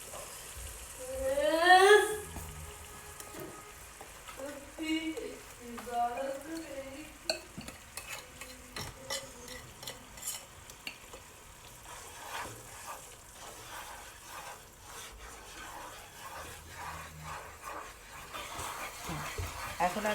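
Beaten gram flour batter made with ghee is poured slowly into a pan of thread-stage sugar syrup for a Monsur sweet and stirred, giving soft scraping and faint sizzling, with brief whining, voice-like sounds early on.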